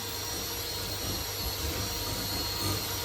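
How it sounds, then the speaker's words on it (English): A power tool whines and hums steadily nearby, a constant motor drone with a high tonal edge and no pauses. "Workman, with your big power tool."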